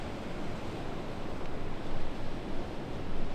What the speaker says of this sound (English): Now just gonna fall asleep to waves again.